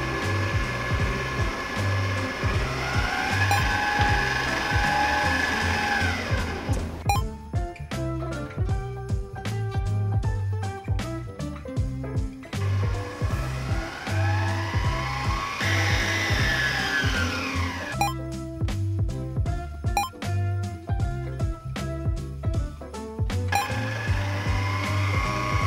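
An electric stand mixer runs at slow speed, mixing dry flour into red velvet cupcake batter with a steady motor hum and rhythmic whirring that swells and dips, close and alone.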